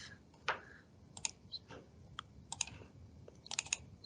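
Rapid clicks of a computer keyboard as a teach point name is typed for a KX-2 robot, irregular taps and short bursts of keystrokes, close and fairly quiet in an otherwise still room.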